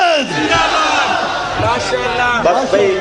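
A crowd at a religious gathering, a Gujrat ijtema, shouts slogans in loud, continuous unison, the chanting filling the whole stretch with layered voices rising and falling together.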